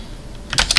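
Typing on a computer keyboard while entering a router address: a quick, close cluster of several crisp key clicks arrives near the end after a quiet start.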